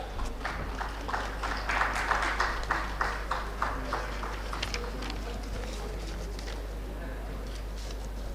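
Applause from an audience at a panel session of a rail and urban infrastructure expo, a dense patter of clapping that swells early then thins, over a steady low hum and a faint murmur of voices.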